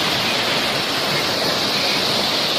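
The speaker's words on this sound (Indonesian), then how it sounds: "Dan ini terdapat sebuah air terjun kecil" Steady, loud rush of the Roro Kuning small waterfall close by, a dense continuous splashing roar with no pauses.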